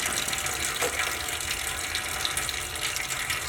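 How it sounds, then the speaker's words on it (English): Coolant sloshes and trickles steadily inside the cooling system of a C5 Corvette, a soft continuous watery wash heard up close with no talking. "So I'm going to let this splish splash around"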